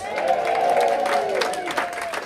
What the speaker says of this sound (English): Can I get a big old cheer, please?